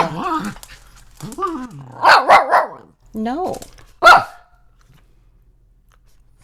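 A dog barks a few times at close range, sharp yips and woofs in quick bursts mixed with a person speaking, ending in quiet.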